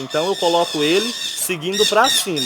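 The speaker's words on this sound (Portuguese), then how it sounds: "Desculpa a barulheira dos passarinhos." Noisy birds squawk in loud, repeated bursts close by, overlapping with someone speaking steadily while he plants an orchid outdoors.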